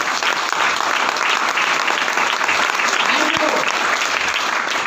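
Loud, dense applause from a large audience at a sales training boot camp, continuous and even from start to finish, with no break in the clapping.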